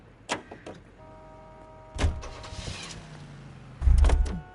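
A Buick Coupe in the game L.A. Noire being entered: a door clunks open, a mechanical whir and rattle follow, then a heavy door slam, all close and loud.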